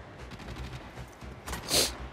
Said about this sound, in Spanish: vamos a ver si le puedo pegar con el rifle